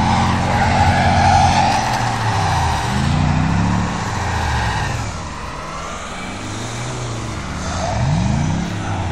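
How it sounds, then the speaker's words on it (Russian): A car skidding and spinning diagonally while being towed on a rope at about 60 km/h, with loud continuous engine roar, rumbling and sweeping tire noise throughout. "У Жоры по диагонали крутит"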